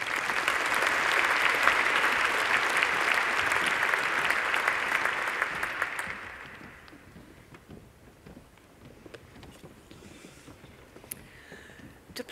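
A large audience applauds graduates at a university engineering graduation ceremony, with sustained full clapping for about six seconds before it dies away into a quiet hall with a few stray sounds.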